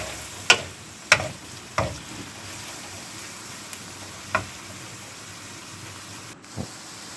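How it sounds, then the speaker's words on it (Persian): Chicken stirred into onions frying in a pan for Gilan-style chicken vavishka: a constant sizzle with about five sharp knocks and scrapes of the stirring utensil. "و بعد داخل پیازا بریزیم. خوب هم بزنیم."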